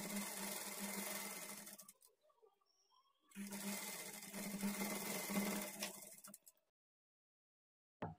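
A sewing machine stitching a blouse runs in two steady whirring bursts separated by a short pause, close and moderately loud, with no talking.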